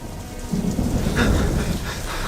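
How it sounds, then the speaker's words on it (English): Rain and thunder sound effect from a radio drama, a steady hiss of heavy rain with low rumbling thunder swelling midway, close and fairly loud, with no voices. "It was dark, raining."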